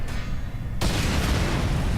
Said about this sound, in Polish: Coś wybuchnęło. Granaty.